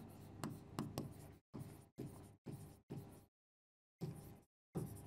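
Pen scratching across paper in short bursts while notes are written during a biology lesson on cell division, close and clear, with silent gaps between strokes.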